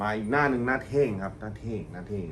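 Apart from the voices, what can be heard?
None of the usual background noises is heard.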